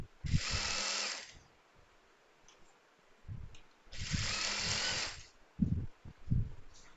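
A sewing machine runs two close, whirring bursts of about a second each while stitching a double seam on a frock, with quieter handling clicks and thumps between them.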